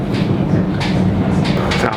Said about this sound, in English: We are just leaving Euston on an overground train.